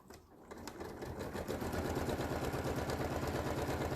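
A sewing machine stitches a quarter-inch seam along a fabric panel, whirring up from a soft start to a steady, rapid mechanical chatter that runs continuously, close and moderately loud, with no talking.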